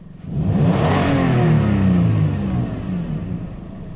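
A Toyota Tacoma 4.0 engine with a minor exhaust leak revs up and holds a loud, rumbling idle, then settles slightly lower as it keeps running nearby.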